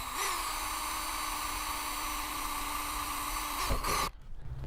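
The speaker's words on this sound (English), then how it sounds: "So that's where I'm going to drill my initial pilot hole." A continuous high-pitched whine of a power drill boring a pilot hole in a Sprinter van's metal body, running steadily for about four seconds, then stopping abruptly, leaving quieter background noise.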